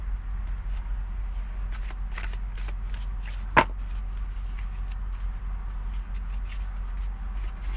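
Tarot cards being shuffled by hand, a quick series of soft riffling flicks and taps over a low steady hum, with one sharper snap partway through and no voices.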